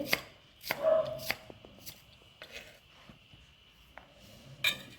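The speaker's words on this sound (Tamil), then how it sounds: "நெருசாக நறுக்காச்சு" Onions being finely chopped for pakoda with a knife on a board, a few sharp, close cutting knocks spaced unevenly with quiet gaps between them and no talking.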